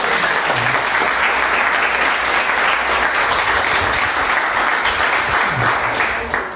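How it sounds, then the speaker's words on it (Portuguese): A church congregation breaks into sustained, dense applause that fills the room at steady loudness throughout, with a faint low hum beneath it and no talking over the clapping. "Uma salva de palmas para Jesus."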